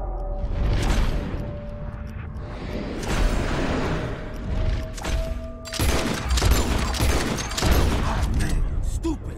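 Rapid gunshots ring out in a Red Dead Redemption II shooting contest aimed at birds, a loud, dense barrage with booming cracks continuing throughout, while voices talk over the firing.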